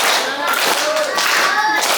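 Children clap their hands along to a sung children's song, quick claps mixed with young singing voices throughout.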